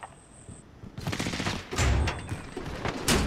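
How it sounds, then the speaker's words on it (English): Bursts of automatic gunfire and shots from a first-person shooter game fill the clip, loud and rapid with overlapping volleys, while a voice comments over the firefight. "Are they covering fire?"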